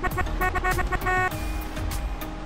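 Car horn in GTA San Andreas played on a Nox emulator, several short honks repeating in quick succession over steady engine and game noise, fairly loud and close.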